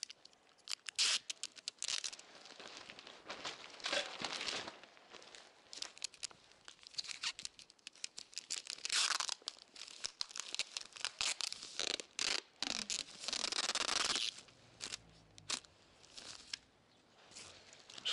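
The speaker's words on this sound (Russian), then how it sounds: "И вот сейчас самое время взять скотч и тщательно все проклеить." Adhesive tape is pulled off the roll in long rasping rips and pressed onto a canopy being repaired after a hurricane, with crinkling and short tearing bursts in an uneven, close rhythm.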